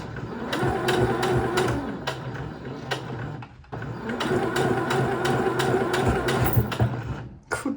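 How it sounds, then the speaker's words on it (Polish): A sewing machine stitching a ballet tunic slowly and carefully, a close, steady mechanical whirr with rapid needle strokes, pausing briefly midway before running again, with no talk. "ja muszę teraz bardzo uważnie, bardzo wolno szyć"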